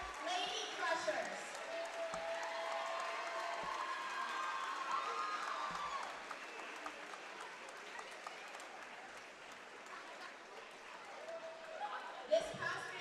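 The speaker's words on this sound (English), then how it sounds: "Please get on your feet and stand up and clap your hands for your PIAA 2A large varsity state champions" An arena crowd stands and claps for the Bishop McCort Lady Crushers, PIAA 2A large varsity state champion cheerleaders, with sustained applause and scattered cheers under an announcer's voice.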